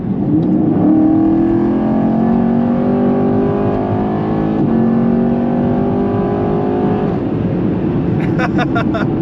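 A 2022 Chevy Camaro 1SS engine rumbles loudly and climbs steadily in pitch as it accelerates from a 55 mph roll, with a brief gear change midway and a rattling burst near the end.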